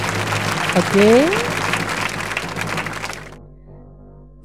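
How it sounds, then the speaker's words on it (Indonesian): Audience applause at an Indonesian public works (PUPR) award ceremony, a broad wash of clapping that swells and then fades out after about three seconds, with a brief spoken word and a tonal chime near the start. "Boleh tepuk tangan lagi ya."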